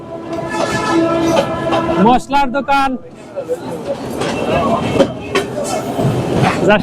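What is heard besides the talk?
Dhaka–Narayanganj commuter train running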